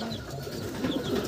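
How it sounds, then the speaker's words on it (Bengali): Pigeons of fancy breeds such as Andhra, Madrasi, racer, tippler and Kalsira coo softly in a loft, low murmuring calls overlapping as a continuous close rumble for a brief moment. "এই যে দেখুন পায়রা, প্রত্যেক ঘরে ঘরে পায়রা আছে"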